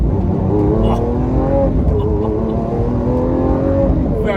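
A Lamborghini Aventador S with its 6.5-litre V12 revs loudly and close up, the engine note rising and falling in steady waves with a sharp burst near the start, while someone talks over it.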